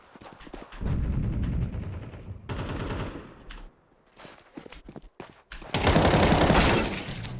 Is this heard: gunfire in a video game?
yes